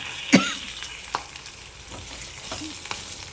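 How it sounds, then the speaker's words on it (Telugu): Chopped chillies frying in oil for a Telugu-style roti chutney, giving sharp isolated pops and crackles over a soft, steady sizzle, with one louder snap near the start. "చూడండి ముక్కలు చేసినా కూడా పేలుతున్నాయి"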